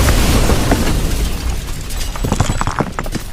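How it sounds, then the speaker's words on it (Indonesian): A small explosion goes off in the distance, an audio-drama effect of a stone corridor shaking in a fantasy tale: a deep rumbling boom that rolls on, with scattered crackles and debris-like pops over the tail. "Satu ledakan kecil terjadi di kejauhan."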